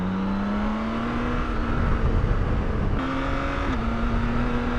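A 2023 BMW K1600 Bagger six-cylinder motorcycle engine pulling hard under light throttle, a steady rising drone with a smooth gear-shift step midway, close and loud with wind noise.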